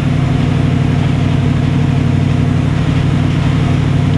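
A turbocharged 427 cubic inch V8 holds a loud, steady high-rpm roar on a dynamometer pull at about 8 pounds of boost, continuous and close with no break across the clip.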